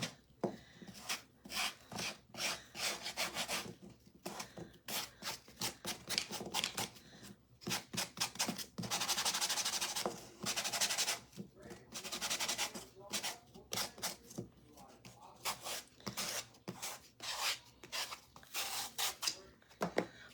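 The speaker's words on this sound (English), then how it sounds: "I'm going to go around this circular edge here that's kind of lifted" Sandpaper rubs around the raised circular edge of a Dollar Tree wooden birdhouse in quick, scratchy strokes that come in uneven bursts with short pauses. The sanding is close and fairly quiet.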